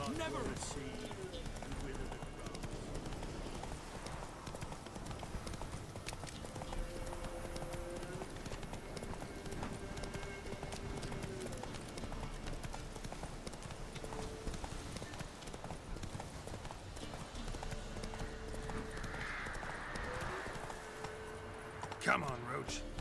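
In The Witcher 3, the horse Roach gallops in a continuous patter of hoofbeats beneath a steady bed of game sound and music. The hooves stay at a moderate level throughout, and a voice talks over them at times.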